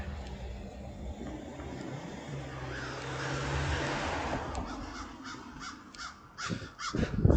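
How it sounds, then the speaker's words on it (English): Several crows caw repeatedly outdoors, their harsh calls coming in irregular bursts over a low wind-like rumble, growing louder and denser toward the end. "Look at the crows coming."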